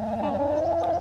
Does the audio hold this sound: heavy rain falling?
no